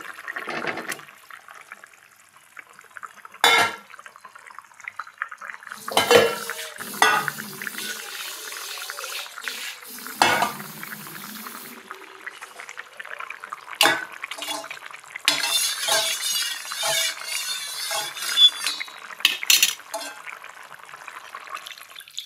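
Eggs go into a bubbling egg curry in a pot, followed by scattered bursts of stirring, splashing liquid and clinks against the pot, with quiet gaps between the bursts and a voice talking at times.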